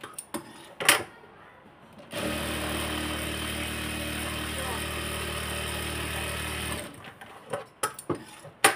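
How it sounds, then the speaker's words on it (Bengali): A sewing machine runs a steady, even whir for several seconds while double-stitching a salwar seam, with clicks and handling noises before and after. "আমি একটু ভালো করে সেলাইটা দিচ্ছি ডাবল করে, যেন না ছিঁড়ে যায়"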